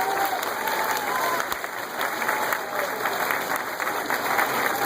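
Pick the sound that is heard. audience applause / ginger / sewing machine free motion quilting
audience applause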